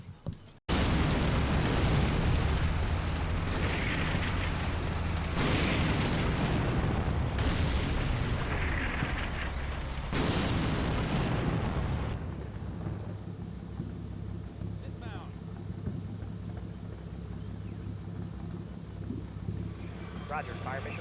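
Artillery explosions in the wargame Combat Mission Cold War, with a heavy rumbling barrage of booms rolling through the first half, then fading to a lower sustained rumble with a faint crackle. Talk runs over the top.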